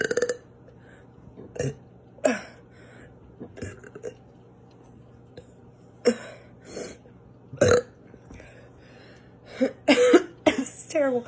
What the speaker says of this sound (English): trying to get burp out.